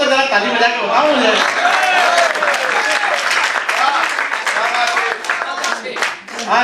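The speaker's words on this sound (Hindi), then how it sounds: "बारीकी को अगर समझ पाए हो तो जरा ताली बजा के बताओ मुझे" Audience clapping at a Hindi kavi sammelan poetry gathering, lively claps mixed with cheers and chuckles, with a voice talking over the crowd.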